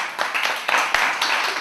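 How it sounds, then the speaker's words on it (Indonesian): A live stage audience applauds at a satirical theatre performance, a short burst of steady, dense clapping with a few sharper hand claps standing out. "Berikan tepuk tangan semuanya."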